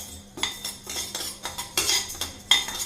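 Rice dry-roasts in a pan for a horse gram porridge mix while a metal spoon stirs it. The utensil scrapes and clinks against the pan in a steady rhythm, close and fairly loud, with no voices.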